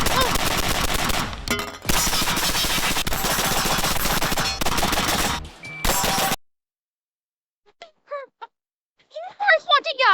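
Rapid, dense gunfire bursts from a shotgun in a video game, loud and continuous for several seconds before cutting to near silence with a few brief, faint blips and chirps.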